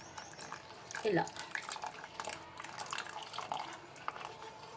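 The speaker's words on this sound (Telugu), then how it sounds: "మనం దీన్ని పాలల్లో కొద్ది కొద్దిగా వేసి దీన్ని గడ్డ కట్టకుండా మనం కలుపుతూ ఉండాలి" Thinned custard powder is poured bit by bit into boiling milk and stirred to keep lumps from forming. Soft, faint liquid pouring and stirring sounds continue under a voice speaking.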